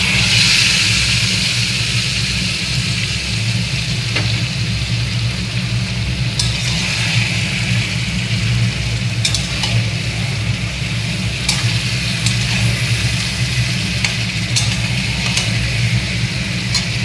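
Marinated chicken added to browned fried onions in a pan for chicken curry, a steady broad sizzle with a low hum underneath and a few faint clinks.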